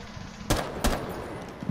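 Two loud gunshots ring out in a Rainbow Six Siege match, about a third of a second apart, over a low background hum, with a fainter pop near the end.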